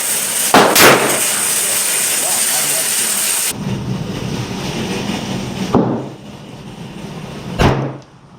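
Shots from a Foxtrot AR9 or Kalashnikov KP9 9mm carbine at an outdoor range ring out as a few sharp, loud bangs, spaced seconds apart over a steady background rumble.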